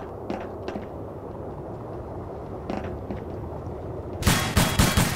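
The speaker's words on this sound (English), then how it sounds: "People shooting freak me out." Gunfire in the video game The Hidden: faint distant shots at first, then a loud burst of rapid close shots in the final second, with no talk.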